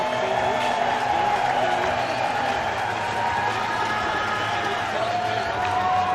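A crowd at a skateboard contest applauds and cheers continuously, a dense wash of clapping and shouts at moderate distance, with an announcer's voice over the noise.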